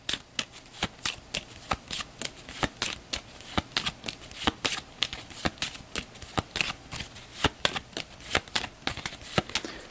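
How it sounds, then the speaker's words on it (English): Cards being riffled and bridged repeatedly, a quick run of crisp flutters and snaps close up, with no talking. "Then we'll shuffle up the turn order deck"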